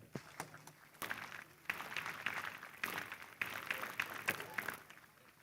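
Applause at a school annual day greets the distinguished guests, coming in uneven bursts of clapping that swell and fade in waves, with a few sharp individual claps and some crowd noise underneath.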